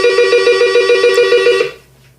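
An old telephone rings close and loud, a rapid continuous electric bell trill lasting just under two seconds before cutting off into quiet.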